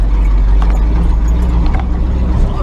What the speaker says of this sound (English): We're just rattling up the logging road now.